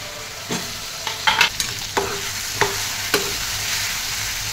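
Brinjals stirred and sautéed in hot oil in a pan: a steady sizzle runs throughout while several sharp spoon scrapes and taps land at irregular intervals, close and moderately loud, with no voices.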